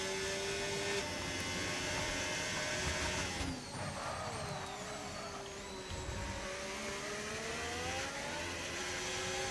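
Ferrari and Aston Martin race cars in a racing video game whine steadily at high revs, their engine tones holding and shifting in pitch as the cars run close together, loud and continuous with no talk.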